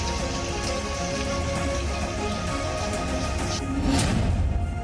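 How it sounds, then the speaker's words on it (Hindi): Heavy, destructive monsoon rain pouring down in the Uttarakhand hills, a dense steady roar of rainfall on surfaces that holds constant throughout and swells slightly louder near the end. "पहाड़ों पर विनाशकारी बारिश,"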